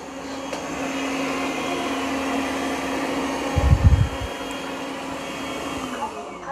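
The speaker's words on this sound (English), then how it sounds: "it increases suction for carpet, which is what you'd expect. That's called carpet boost." An ECOVACS DEEBOT N10 Plus robot vacuum hums steadily nearby, switching to boosted suction on carpet, with a brief low thump partway through.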